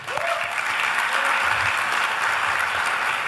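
Sustained, enthusiastic applause from a conference luncheon audience in a large hall, many hands clapping together in a full, even roar throughout.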